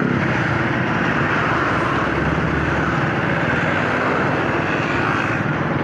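A Honda 150cc scooter-style motorcycle racing alongside another, its engine a loud, steady drone mixed with rushing wind noise that stays constant throughout, with no voices.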